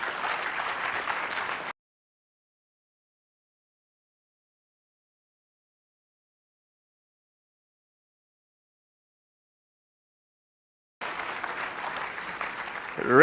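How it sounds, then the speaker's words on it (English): Audience at a university lecture applauds a former member of Ghana's parliament, a burst of dense clapping that breaks off into silence, then resumes about nine seconds later and swells toward the end. "Please, let's clap for him."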